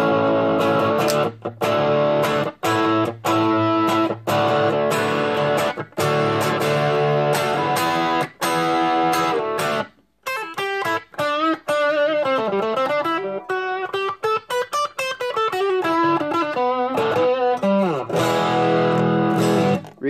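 Electric guitar through a Moen Buffalo pedal on its distortion side, loud and continuous, with thick sustained chords giving way to a run of quick single-note lines, played alone.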